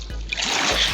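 A Minecraft character splashes through water, a brief close watery slosh lasting about a second with soft repeated strokes.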